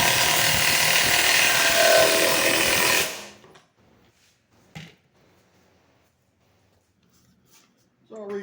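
An 18-volt cordless impact wrench, Snap-on and Uaoaii models, hammers loudly for about three seconds, then stops, leaving near silence broken by a few faint clicks and a brief voice at the end.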